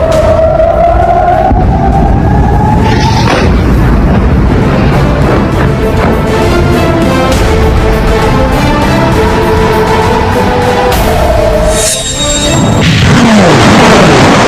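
Deep, loud booms roll and echo continuously, with rumbling reverberation and a sharp crash near the end.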